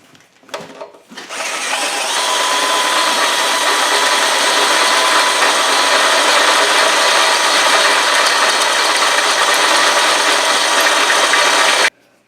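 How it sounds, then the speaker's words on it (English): Drill Doctor 350x sharpener grinding drill bits, a steady loud whirring grind that starts after a brief fumble and runs unbroken for about ten seconds before cutting off. "So I figured I'd take an hour out of time and sharpen some bits up"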